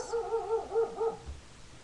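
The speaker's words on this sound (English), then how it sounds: "Ignore my dog if you can hear him." A dog gives a short run of five quick whimpering yips and barks indoors, moderately close, then falls quiet.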